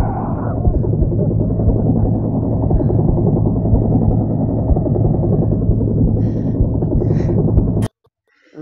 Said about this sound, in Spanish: ¿Y viste dónde llegó el helicóptero?